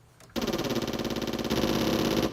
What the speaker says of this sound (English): That's machine guns.